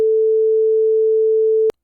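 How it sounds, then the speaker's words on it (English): A pure 440 Hz sine wave test tone plays as one steady, unwavering pitch at moderate level, then cuts off abruptly with a small click near the end. "So we do have 3 seconds of 440 hertz sine wave"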